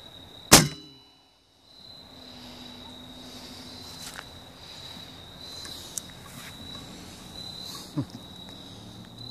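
Arrow shot from a bow fitted with a camera mount: one sharp loud snap and twang near the start, then quiet outdoor ambience with crickets and a few faint clicks.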